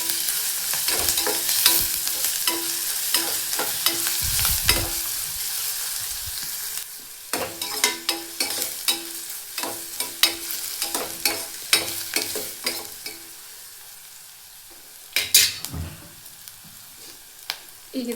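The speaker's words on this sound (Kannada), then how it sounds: "ಎಣ್ಣೆ ಒಳಗೆ ಚೆನ್ನಾಗಿ ಫ್ರೈ ಮಾಡ್ಕೊಳ್ಳೋಣ." Ridge gourd palya fries in oil with a spatula scraping and stirring through it, hissing sizzle broken by repeated clattering stirs and pan knocks, close up and without talk.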